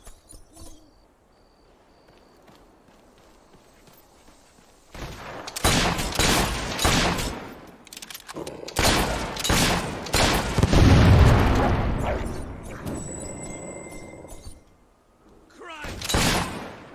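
Gunfire in the Fable 3 game comes as loud clustered bursts of booming shots after a quiet opening, pauses briefly, then returns with one last burst.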